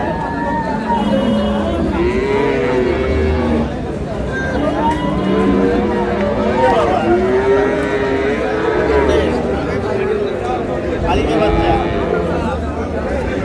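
Cattle lowing at a busy rural livestock market at Ambari Haat in Dinajpur, with several moos rising and falling over a dense crowd of chatter and bargaining voices, with people talking throughout.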